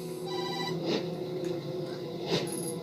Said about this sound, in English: No doubt about it, that's Kazuki's phone, all right.